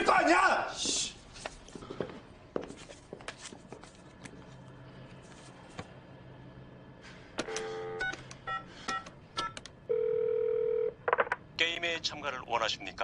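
A telephone keypad being dialed, with a series of short touch-tone beeps and one longer tone near the end, mixed with footsteps, handling noise and brief speech.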